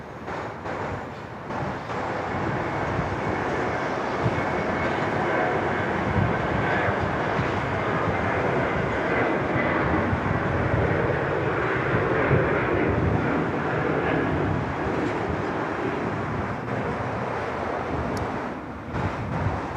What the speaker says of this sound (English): here's the Adelaide-bound 737, and Air India will be following that